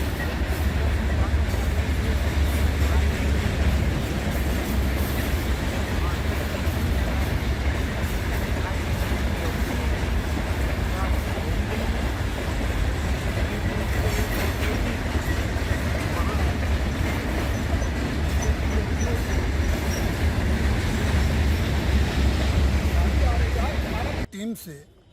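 A train at Gauriganj railway station's platform 1 in Amethi district, heard as a loud, steady rumble and roar that runs unbroken for about twenty-four seconds before cutting off abruptly.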